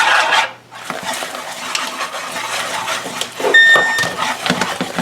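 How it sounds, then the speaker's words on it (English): Butter mixture stirred continuously in a saucepan while coming to a boil, with close scraping and clinking of a utensil against the metal pan and a faint sizzle underneath. "We're to bring it to a boil, stirring continuously,"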